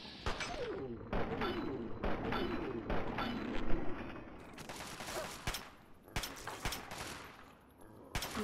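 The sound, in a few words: gunfire in Fallout 3 video game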